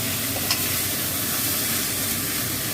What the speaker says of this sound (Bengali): এবার এই তেলেতেই আমি বরবটিটা হালকা করে ভেজে নেবো।